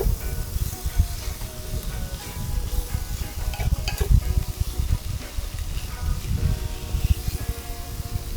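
Anchor butter sizzles and spits in a pot over an outdoor fire on a Jamaican beach, a loud, steady frying hiss with a crackling low rumble and brief stirring clatter, and no pauses throughout.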